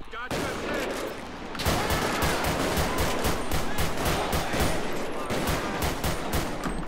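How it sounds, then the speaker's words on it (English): Rapid bursts of gunfire in GTA 5 during a UK armed police patrol, starting sparse then becoming a steady, loud stream of repeated shots through most of the clip, with a voice faintly underneath. "You hear that? That was a gun."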